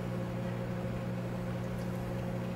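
Churro dough pieces, about eight inches long, frying in hot oil in a restaurant kitchen, a constant, even bubbling hiss under a steady low mechanical hum, with no talk.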